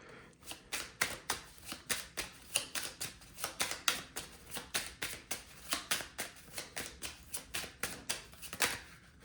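Tarot cards are shuffled and handled close by, a long even run of crisp riffling flicks and soft slaps repeating at a brisk rhythm.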